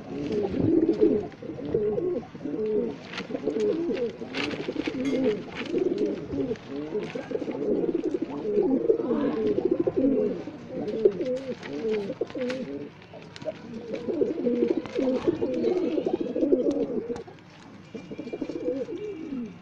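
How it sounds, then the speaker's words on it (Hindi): Domestic pigeons coo continuously in low, overlapping throaty calls throughout, a loud close flock in a rooftop loft on a windy day, with occasional wing flutters and faint rustling. "फुल कबूतर हैं सारे मेरे, टोटल ओवरऑल ये कबूतर हैं"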